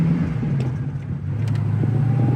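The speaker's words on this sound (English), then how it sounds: "We're taking off from the stop sign. Going through the gears here first." A 1973 Ford Mustang convertible pulls away from a stop sign, its engine holding a steady low rumble from inside the car with a rising tone as it runs through the gears.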